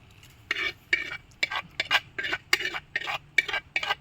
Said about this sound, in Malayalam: ഇതിപ്പോൾ നമ്മൾ ഈ ഗ്രേവി ഇതിലേക്ക് ഫിഷിലേക്ക് ഇളക്കി മിക്സ് ചെയ്യുന്നു